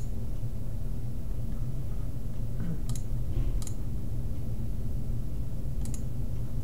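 A few faint, sharp computer mouse clicks, spaced seconds apart over a steady low background hum, with no talking.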